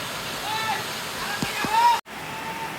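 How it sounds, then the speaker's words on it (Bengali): Sonaichhari waterfall pours with a steady, close rushing roar, a few thin whistling tones rising over it before a brief dropout near the end. "অনেক সুন্দর, অসম্ভব সুন্দর একটি ঝর্ণা"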